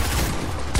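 Gunfire rattles in a shooter video game, loud, dense and continuous bursts that fill the whole moment, with no voices over it.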